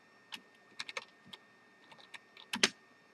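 Keys tap on a computer keyboard in a sparse, irregular string of soft clicks, close and quiet, ending with a sharper key press.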